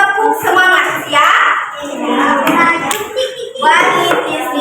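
Classroom of children doing a rhythmic clapping chant led by a teacher, hands clapping in patterned bursts with children's voices chanting along throughout.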